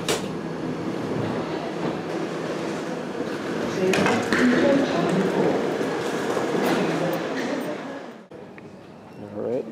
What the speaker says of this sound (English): this train will remain in the platform approximately 5 minutes before departure